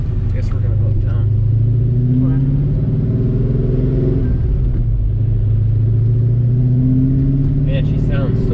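Mustang V8 with headers and an X-pipe exhaust while driving: a steady, loud, deep rumbling drone with slight rises in pitch as the engine pulls, continuous throughout from inside the car.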